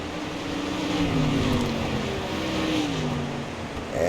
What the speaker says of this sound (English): that's James Thurman out there, the number 4 car, currently running in 12th place